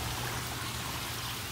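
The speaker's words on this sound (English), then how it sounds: "waterfall" A small backyard pond waterfall trickles and splashes in a steady, close wash of water noise with no other sounds.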